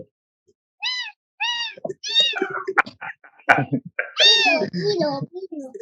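A pet cat, one of several generations kept in the same household, meows a few times in short repeated calls, close by and clear, with people chatting around and over it.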